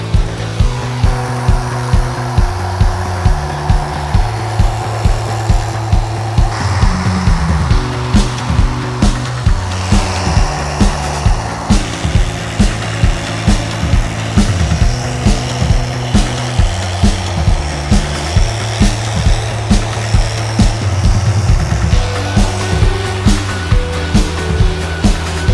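A power tool cuts foam for a custom Harley Dyna motorcycle seat in a garage, a loud steady whir broken by regular rhythmic pulses that repeat evenly across the whole stretch with no talking.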